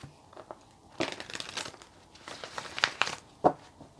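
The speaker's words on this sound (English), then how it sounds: "So I'm just going to give the cards one more shuffle." A deck of tarot cards is shuffled by hand, giving soft, irregular riffling and papery crinkling bursts at close range in an otherwise quiet room.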